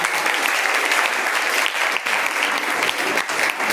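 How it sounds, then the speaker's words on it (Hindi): Audience applause at a leadership development appreciation programme, dense steady clapping from a crowd filling the hall, loud and continuous with brief dips, no talk over it. "तालियां बजाइए, फिर प्रोग्राम करते हैं।"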